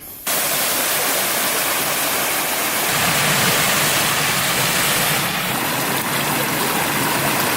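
Water cascades along the Cascades Trail in a loud, continuous broadband rush, heard close and steady with no voices.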